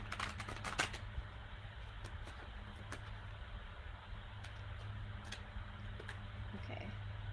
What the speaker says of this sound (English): Let me give it another good shuffle in my lap here.